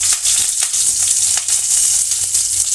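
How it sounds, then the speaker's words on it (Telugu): Oil and curry leaves sizzle hard in a frying pan, a steady loud crackling hiss that holds throughout with no one talking. "నూనె అలాగే కరివేపాకు వేసుకోవాలి."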